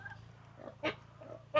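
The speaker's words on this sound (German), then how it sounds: "Dort sind meine Schweine untergebracht." Pigs grunting in their pen on a farm in Isaan, Thailand: a few short, low grunts and snuffles, faint and close, over a quiet low hum with no talk.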